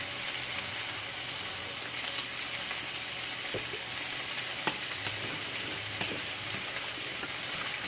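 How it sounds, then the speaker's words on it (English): A chicken noodle casserole mixture with pepper and garlic being stirred in a pot, giving a steady soft sizzle with faint scraping and a few light knocks throughout, no voices. "Okay, and then you mix it up."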